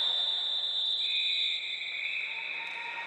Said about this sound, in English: Well, it's a whistle now